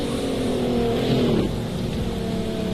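A McLaren race car engine in Project CARS 2 drones loudly and continuously, its pitch sweeping down as it passes, with no talk over it.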